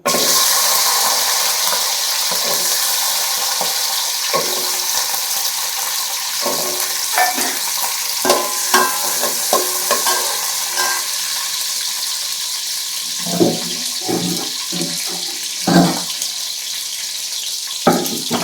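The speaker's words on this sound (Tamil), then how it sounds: "எண்ணெய் காஞ்சிருச்சு. இப்போ இந்த வெங்காயம் இருக்குல்ல அதை போடும்." Sliced onions dropped into hot oil for a Thoothukudi-style boti (intestine) gravy, a loud continuous hiss and sizzle close by, with scattered clicks and thumps of handling throughout.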